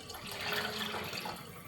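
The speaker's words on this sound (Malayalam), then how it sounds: "ഇപ്പോൾ ഒരു 6 ഗ്ലാസ് വെള്ളമാണ് ഒഴിക്കുന്നത്." Water poured by the glassful into a cooking pot for chicken biryani rice, a brief, steady splashing gush heard close up with no talking.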